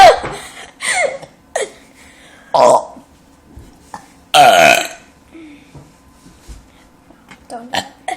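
Loud, close burps in a burping contest, several long raspy belches in turn with short gaps, and people laughing and reacting between them.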